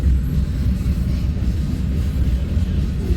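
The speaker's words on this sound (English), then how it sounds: "Unit train of corn heading west." A westbound Union Pacific unit train loaded with corn rolls past, a steady, heavy low rumble of railcars holding even and close throughout, with no voices.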